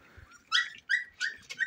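A puppy whines and whimpers in several short, high, quavering cries close by, with brief gaps between them and no talking.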